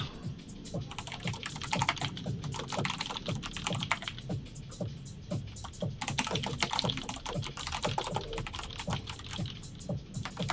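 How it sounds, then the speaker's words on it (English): Typing on a Cherry MX Red mechanical keyboard, with quick, irregular bursts of soft key clacks close by, continuing steadily and fairly quietly throughout without talking. "I actually went back to one of my Cherry MX Red keyboards"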